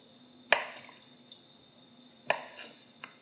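A knife chops chak-chak dough into pieces on a board in a home kitchen, two crisp cuts about two seconds apart, each trailed by softer taps, close and quiet.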